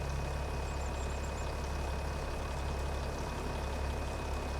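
A truck engine idles steadily in Farming Simulator 25, a low continuous rumble with a faint constant tone, quiet and unbroken, with no talking.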